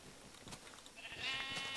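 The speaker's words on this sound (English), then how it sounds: "Oh, there's lots of sheep, actually." Sheep bleating in the video game Minecraft, a few short bleats at moderate volume, one longer wavering call near the end, with no talk over them.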